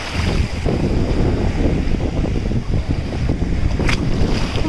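Strong wind buffets the microphone with a constant rough roar on a cloudy day at a Zakynthos beach, waves and surf rumbling underneath.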